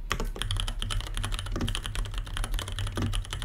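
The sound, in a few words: typing on tactile mechanical keyboard switches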